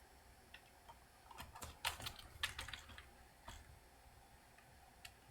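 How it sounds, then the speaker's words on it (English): Quiet typing on a computer keyboard while playing a game, with bursts of sharp key clicks clustered in the middle and scattered single taps toward the end, close and soft, with no talk. "Keyboard and mouse."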